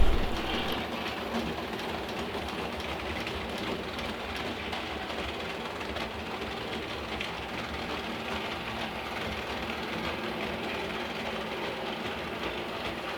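A vintage Märklin 3037 model locomotive circling a tabletop loop of M-track, a continuous close rumbling whir with faint rhythmic clicking over rail joints, steady and unbroken.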